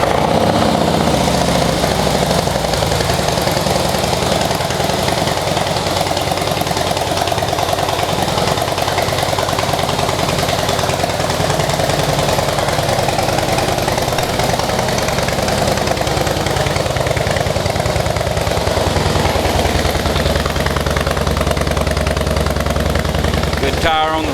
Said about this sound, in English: It's a 96-inch motor with a 6-speed transmission.